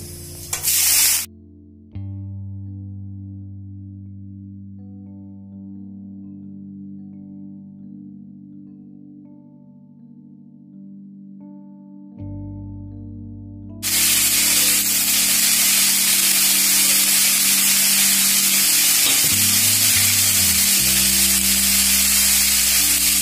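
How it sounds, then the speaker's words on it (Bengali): Teasel gourd (kakrol) and potato frying in oil, a loud, steady broadband sizzle filling the second half after a quiet stretch of low tones. "আর এই যে কাকরোল আর আলু ভাজা"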